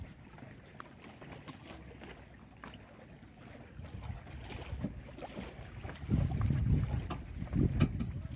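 A boat moves over open water on a weekend trip, a low churning wash and wind buffeting the microphone that swell louder toward the end, with no speech.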